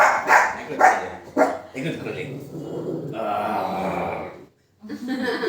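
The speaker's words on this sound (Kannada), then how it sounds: "ನಮ್ಮ ಮಿಯಾ ಪುಟಾಣಿನ ನೋಡಿ ಬೊಗಳ್ತಾ ಇದ್ಲು" A dog barks in a few sharp, loud bursts at the start, then a person talks over a quieter, steady background.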